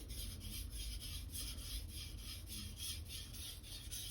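A 240mm Blue Super steel gyuto knife is stroked back and forth across Naniwa whetstones, making a quiet, even rhythmic rasping of roughly three strokes per second, close and alone.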